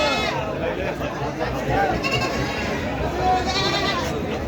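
Goats bleat repeatedly amid a dense crowd of chattering voices at the Baneshwar livestock market, the calls overlapping in a busy, noisy din.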